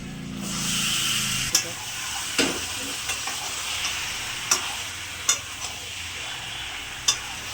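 Marinated goat meat frying with onions in a pan, a continuous close hiss and sizzle punctuated by several sharp scraping stirs, with a voice talking faintly underneath.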